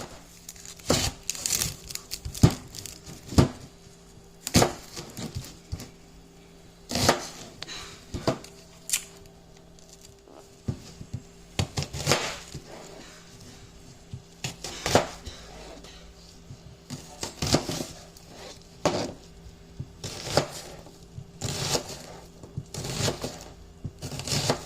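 Thick garlic cloves chopped on a board for country-style pinto beans, a series of crisp knife thuds in irregular bursts, close and fairly quiet, with no talking.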